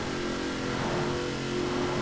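A 2019 Chevrolet Corvette ZR1 engine accelerating in the Forza Horizon 4 racing game, a sustained droning roar with a steady rising tone, no voices.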